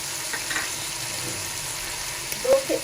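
White cumin seeds crackle and sizzle in hot oil for mutton pulao, a steady close hiss with a few small pops.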